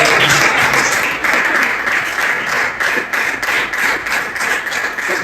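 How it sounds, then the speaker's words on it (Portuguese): Church congregation clapping together in praise during an evangelical service, a loud, continuous, slightly rhythmic patter of many hands filling the room. "Que as palmas podem louvar o Senhor."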